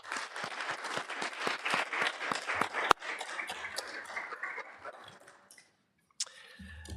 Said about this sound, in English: we'll take the opportunity to give them a round of applause at this time.